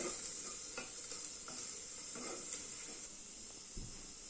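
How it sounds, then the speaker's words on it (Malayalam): Sliced onions fry in a pan for chicken curry, a faint, even sizzle with light occasional stirring taps and a soft scrape near the end, heard alone without talk. "സവാള ഇട്ട് ഇത് നല്ലപോലെ മൊരിയണം"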